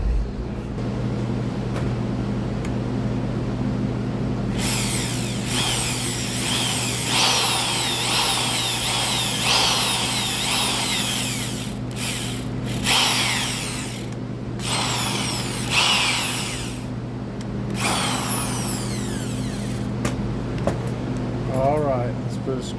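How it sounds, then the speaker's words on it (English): Power drill enlarging a hole in a Husqvarna 324L trimmer part during a carburetor fuel line repair, whirring steadily in bursts with short pauses, close and fairly loud over a constant low hum, with a voice talking now and then. "I might have to drill this bigger."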